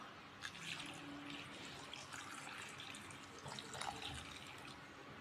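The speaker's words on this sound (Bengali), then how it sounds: "এবার এটিকে জল দিয়ে ধুয়ে রাখবো" Tap water runs steadily over chopped papaya and potato pieces being washed, a faint continuous splashing and trickling with no talk.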